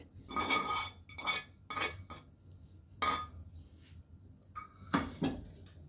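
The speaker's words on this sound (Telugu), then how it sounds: "ఇప్పుడు మొత్తం బాగా కలిసేలాగైతే కలుపుకోవాలి." A spoon clinks and scrapes against a cooking pot in short bursts as a tempering of cashews is stirred into millet pongal, quiet and close, with pauses between strokes.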